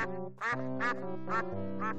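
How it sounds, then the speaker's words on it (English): Stock cartoon duck quack effect from the Simon the Sorcerer adventure game, four clear nasal quacks in an even rhythm, close and isolated against silence. "I think this is a stock sound effect for a duck quacking, because I've heard that same sound in a lot of games"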